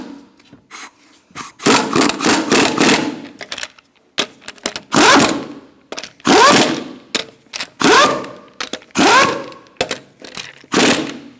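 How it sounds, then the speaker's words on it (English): Lug nut being threaded and snugged onto a front wheel of a 2005-2010 Chrysler 300 with a 21mm socket, heard as a series of close, loud bursts of ratcheting and metallic rasping separated by short pauses. "I'm going to start the bottom lug nut first to lock the wheel on. I'm using a 21mm socket."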